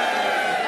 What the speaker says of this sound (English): Give us a cheer if you want to hear it at full speed.